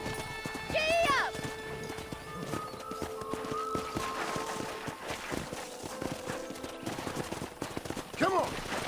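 Wild horses in Red Dead Redemption, with rapid clip-clop of galloping hooves, a sharp whinny near the start and another near the end, set against game music and effects.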